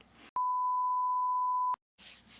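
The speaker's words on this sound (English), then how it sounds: "You don't hear that buzzer?" A single loud, pure electronic buzzer tone from the WWE 2K22 wrestling video game sounds steadily for about a second and a half, alone between stretches of background noise.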